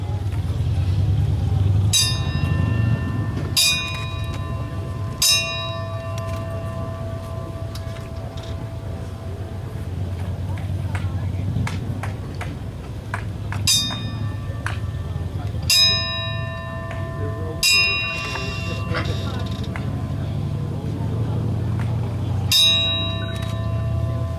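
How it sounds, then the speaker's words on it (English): A fire department bell rung at a decommissioning ceremony for the Loring Air Force Base fire station: spaced, resonant clangs that ring out and decay slowly, heard over a steady low background hum. "So at this time, Norm, I need you to ring the bell 3 times, and on the last one, let it toll out, please."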